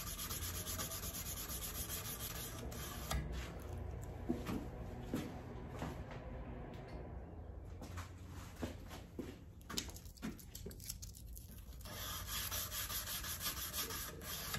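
A Damasteel knife blade is hand-sanded with abrasive grits in repeated back-and-forth rubbing strokes, close and quiet with a soft scratchy texture, with no talk.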